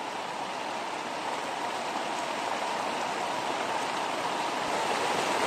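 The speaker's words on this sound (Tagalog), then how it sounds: "Malakas ng ulan dito." Heavy rain pours down around a hut, a dense, loud, unbroken hiss of water that holds steady from start to finish.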